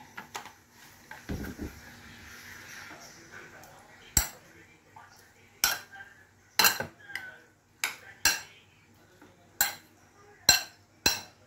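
Chicken being stirred with soy-based black sauce in a pan, a spoon giving sharp, separate clinks and scrapes against the metal at irregular intervals, close and fairly loud over a quiet kitchen background.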